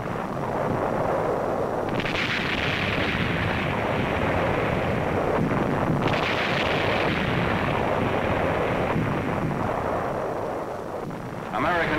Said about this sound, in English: American guns massed in the university yard fire against enemy artillery positions